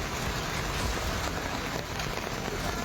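Heavy torrential rain pours down in India, a dense, steady roar of falling water that stays loud and constant throughout, with no voices.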